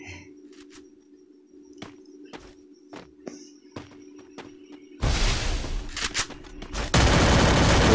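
Shots crack sporadically in a shooting video game over a steady electronic hum, then dense, loud bursts of gunfire break out near the end, close and continuous.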